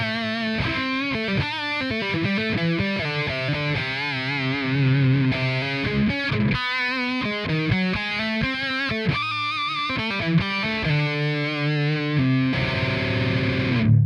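Heavily distorted electric guitar through an Amplitube 5 amp simulator, miked with a Ribbon 121, plays chugging chords and sustained notes with a dark, thick tone, loud and steady throughout, with no voices.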